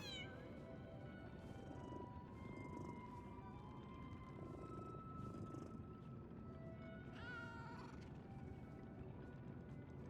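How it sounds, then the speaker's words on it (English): A cat in the video game Lies of P meows several times in long, drawn-out cries over a steady bed of in-game ambience and music. "Oh, cat."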